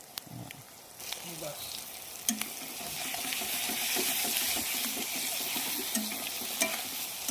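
Chicken fries in a kadai with a continuous loud sizzle and occasional stirring clatter, while voices chat in the background.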